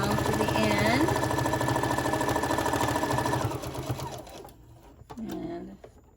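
A sewing machine stitches the strap of a tote bag, a fast rapid-fire mechanical chatter for about four seconds before slowing and stopping, followed by brief handling sounds.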